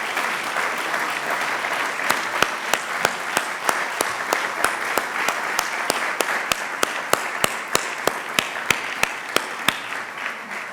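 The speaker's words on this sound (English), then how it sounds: "Let's give them all a long overdue round of applause." Sustained audience applause at an award ceremony honoring a compassion class, a dense steady wash of many hands clapping throughout, with a few sharper individual claps standing out near the microphone.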